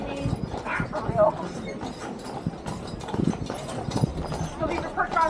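Hooves of Percheron carriage horses clip-clop steadily on the road during a carriage tour, a brisk repeated clatter with occasional creaks and mechanical rattles close by, under someone talking.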